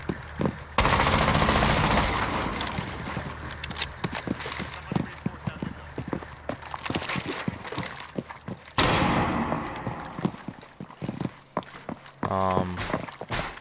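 Rapid automatic gunfire from Rainbow Six Siege, with dense bursts of shots rattling loudly and almost continuously, broken by short pauses, with game sound effects mixed in.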